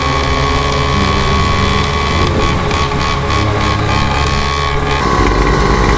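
A Walk Machine 210cc motorcycle revs hard while riding a wheelie on a Sunday street ride in Santo André, a loud, close, droning engine roar that holds steady before dropping off near the end.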